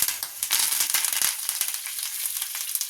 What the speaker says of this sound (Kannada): ಜೀರಿಗೆ ಎಲ್ಲ ಚೆನ್ನಾಗಿ ಸಿಡಿಬೇಕು